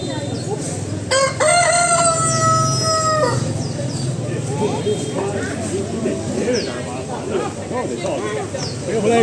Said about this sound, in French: Ouais, il est là le coq.